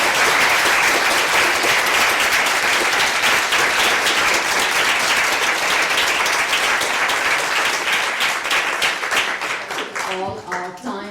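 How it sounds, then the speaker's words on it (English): Audience at a talk on the human costs of caring gives sustained, loud applause that fills the room, then thins out and fades as a voice begins speaking at the end. "thank you all for that wonderful applause"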